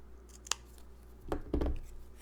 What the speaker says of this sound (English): so I just cut off one of the flowers